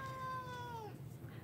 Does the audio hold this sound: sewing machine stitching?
no